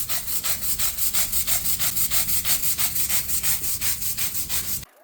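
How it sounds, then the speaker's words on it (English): A wire brush scrubs rust and grime from a concrete driveway in fast, even back-and-forth strokes, about four per second, loud and close with no talk, stopping abruptly at the end. "I'm going to go ahead and take my wire brush, and I'm going to actually scrub some of these areas"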